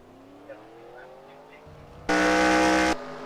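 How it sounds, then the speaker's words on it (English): NASCAR video game race car pulling out of its pit stall at a superspeedway, a sudden loud engine roar bursting in for under a second after quiet engine drone, then easing off. "Cole Daly leaving his pit stall"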